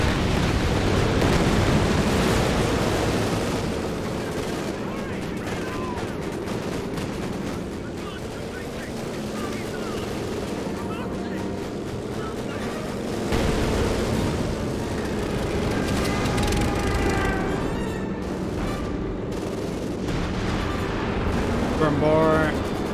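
Strafing run from British support in Company of Heroes 2, a dense, steady wash of gunfire and explosions rumbling through the whole stretch, with louder bursts near the end and game chatter mixed under it.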